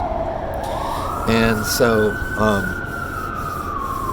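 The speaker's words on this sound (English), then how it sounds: "sorry about the sirens" An emergency vehicle siren wails, rising and sweeping in the background as it passes, while someone speaks briefly over it.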